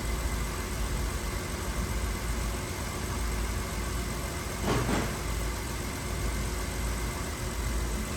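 A 2006 BMW 325i idles steadily with a cylinder misfire, a continuous low engine drone holding constant throughout, with one brief louder disturbance midway and no talking.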